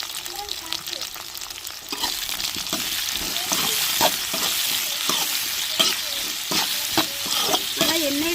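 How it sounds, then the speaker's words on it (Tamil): Eggplant and onion sauté in oil with tomato and a little salt while a utensil stirs them, giving a steady close sizzle broken by frequent scraping strokes. "எல்லா பொருட்களும் வதங்கி வளர்த்துங்க சொந்தங்களே நம்ம எண்ணெயிலேயே கத்திரிக்காய் வெந்து வந்துருச்சு"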